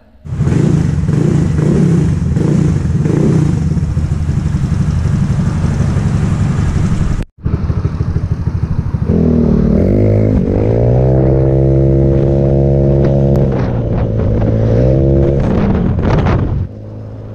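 A bored and stroked Yamaha Soul GT 200 cc motorcycle engine runs loudly nearby, idling steadily before briefly cutting out, then revving and shifting pitch as it pulls away.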